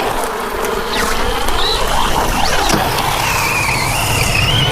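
An MJX Hyper Go 7303 RC car drifting runs its electric motor with a high buzzing whine that sweeps up and down in pitch, close and loud, along with tire scuffing.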